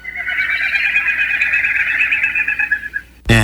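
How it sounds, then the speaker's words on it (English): Wilson's snipe making its non-vocal winnowing sound, a steady fluttering hum lasting about three seconds, loud and close, ending abruptly with a brief thump. "Here's the snipe."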